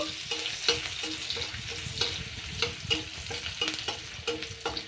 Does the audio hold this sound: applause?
no